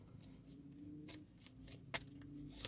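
Spiritual oracle cards being shuffled, a quiet close-up patter of soft flicks and a few sharper snaps over a faint low hum, with no talking.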